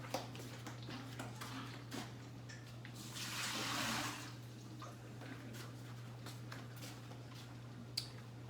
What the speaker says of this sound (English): I'm going to dump this water.